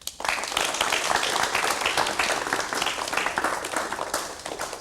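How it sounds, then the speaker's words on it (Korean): Studio audience applause welcoming a guest on a 1990 Korean television talk show, dense and steady clapping from a crowd that sustains throughout and tapers slightly at the end. "여러분 박수로 환영해 주시면 대단히 고맙겠습니다"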